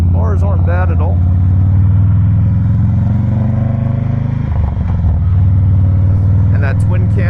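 A 2017 Harley-Davidson Softail Breakout with a twin cam engine rumbles steadily in a low throb while being ridden, close and loud throughout, with a rider talking over it.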